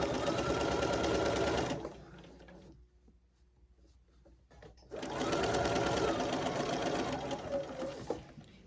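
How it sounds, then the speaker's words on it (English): A sewing machine stitches fabric for a quilt in two loud, steady runs of rapid mechanical chatter, close by, with a quiet pause between them where the motor stops. "And then we're going to sew."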